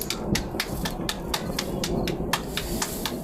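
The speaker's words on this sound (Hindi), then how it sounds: "बहुत सी बारिश, बादल गरजने लगे हैं जी।" Heavy rain in an outdoor village setting, a steady dense hiss with sharp irregular spatters or drops striking nearby; any thunder is not clearly distinct in the mix.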